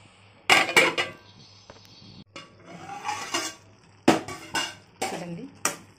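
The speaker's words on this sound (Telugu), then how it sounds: "ఇప్పుడు మూత పెడదామండి." Metal pot lid set onto a cooking pot of simmering leafy greens and chana dal, giving a few sharp clanks and clinks at close range, with quieter rattling in between.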